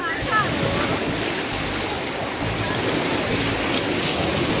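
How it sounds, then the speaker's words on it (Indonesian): Steady ocean surf roars continuously with wind buffeting the microphone, loud and close, at Dalegan white sand beach in Gresik. "Ini Caka dan adik Caka dan kakak Juna main di pantai"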